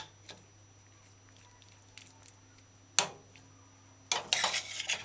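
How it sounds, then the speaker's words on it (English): Spoon stirring a pot of fish fillet and mixed vegetable stew, a few sparse metallic clinks and soft scrapes, then a sharp clank and a short burst of busy scraping and clattering, close and fairly quiet. "Before serving, stir your pot in"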